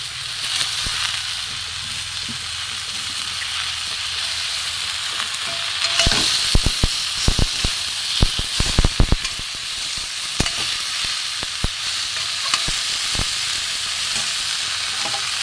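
Spinach and green chillies sizzle steadily in a hot pan for a Bengali vegetarian spinach chorchori, with a burst of sharp scraping stir strokes midway and a few later ones over the continuous frying hiss; no talking.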